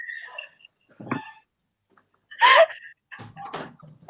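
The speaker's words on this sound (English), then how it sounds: "Is that my dog you can hear in the echo? It's a dog." A dog barks a few times indoors, the sharp yelps fairly close, interleaved with a person's voice and a loud shout partway through.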